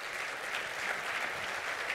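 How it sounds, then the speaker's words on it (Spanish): Applause from an audience at a Chilean panel event on digital productivity, a dense steady wash of many hands clapping at moderate volume, sustained throughout without a break. "un aplauso para Alberto Sala"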